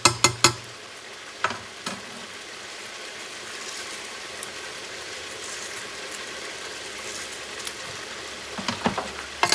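Lamb and chicken couscous stirred in a pan: a soft continuous sizzle with a few sharp utensil knocks at the start and end, close by and without voices.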